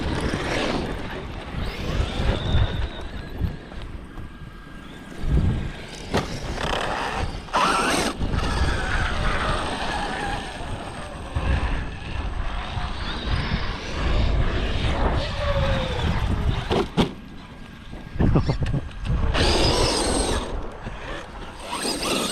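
A small-scale 12s-powered RC Baja car revs hard in bursts with throttle, its engine whine rising and falling and dropping off between pulls, close and loud over outdoor ambience.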